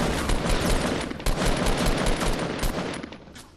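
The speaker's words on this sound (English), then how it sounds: "just gonna fire some more RPGs" Rapid, dense volleys of weapon fire from RPG rocket launchers in the video game Fortnite, a loud continuous barrage of overlapping blasts with a few sharper hits, sustained for several seconds and fading slightly at the end.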